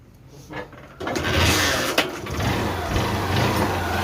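A motorbike engine, under repair for a failed bore, is kick-started and catches about a second in after a slow start, then runs with a steady close mechanical drone.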